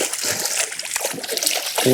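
A brook trout thrashes and splashes at the surface of a lake as it is brought in on a fishing line, a steady close wash of splashing water with a voice briefly at the end.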